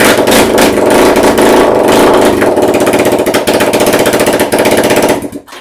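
A motorcycle engine runs with no exhaust fitted, giving a loud, harsh, rapid staccato bark close by for about five seconds before it cuts off abruptly.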